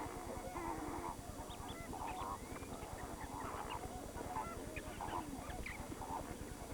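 Flamingos gathered at the freshwater springs of Lake Nakuru give a dense, steady chorus of honking calls over a continuous low rumble of flock noise, with no voices over it.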